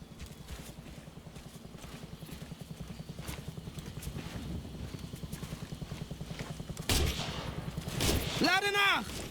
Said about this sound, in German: Hier Charlie-Team, wir werden beschossen!